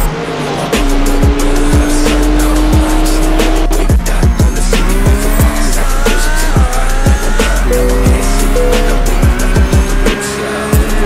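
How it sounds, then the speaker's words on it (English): A GT3 race car in the iRacing video game spins at Imola during an endurance race, with loud engine roar, rising and falling revs and repeated sharp tire squeals and skids amid other passing cars. "Unfortunately, we do have a car spinning."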